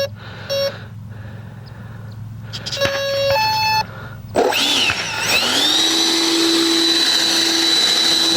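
Electric motor of a crashed, repaired RC MiG-25 model plane: after electronic beeps and tones, the motor spins up with a sharp rise into a loud, steady high-pitched whine that holds for several seconds.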